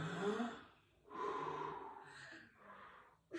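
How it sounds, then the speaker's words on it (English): A child takes several deep breaths during a pediatric lung assessment, loud close inhales and exhales in three long breathy cycles with a short sharp breath at the end. "I want you to take a deep breath for me like this"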